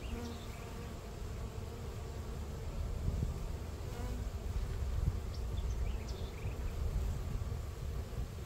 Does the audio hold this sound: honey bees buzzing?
yes